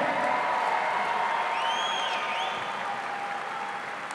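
A strongman competition crowd at Wembley applauds steadily with dense, continuous clapping, and a few whistles and cheers rise over it midway.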